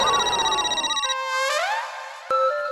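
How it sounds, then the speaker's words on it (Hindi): A phone rings with a looping electronic ringtone, clear and fairly close, playing alone as the tune steps through a few pitched tones without any talk. "लेकिन लो फिर फोन आ गया"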